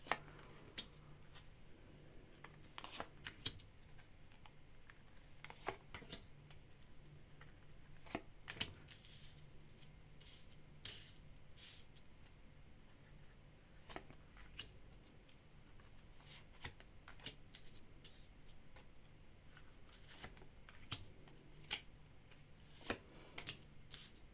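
Large tarot cards are shuffled and handled near the microphone, giving quiet papery riffles and sharp slaps at irregular intervals against a faint hum.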